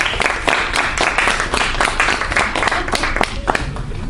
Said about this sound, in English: let's give a nice round of applause to these wonderful people here